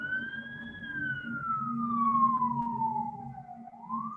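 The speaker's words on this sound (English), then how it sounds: "It's a fire truck." A fire truck siren wails outside an office window, one loud, steady tone sliding slowly down and then rising again, with low traffic rumble underneath.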